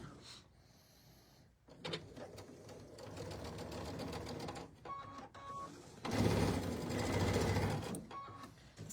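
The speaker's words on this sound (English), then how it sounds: "I'm going to sew from corner to corner on the diagonal" Sewing machine stitching a quilt block diagonally from corner to corner, running in bursts of rapid steady needle chatter with short pauses between, fairly close.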